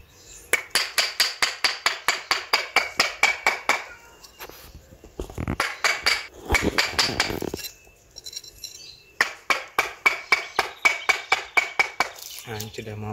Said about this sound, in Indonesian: ini kita pahat karena kalau pakai gergaji ini terlalu mepet sama potnya